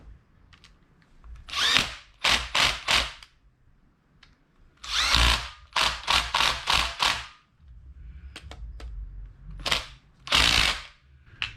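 A power tool drives screws into a Yamaha XS650 motorcycle charging system in about a dozen short, loud whirring bursts grouped in quick clusters with pauses between them.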